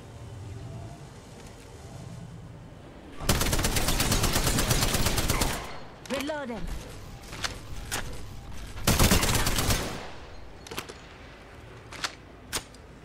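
Gunfire in Apex Legends comes in several loud sustained automatic bursts, interspersed with short chirping effects and sharp single cracks, against a quiet game backdrop.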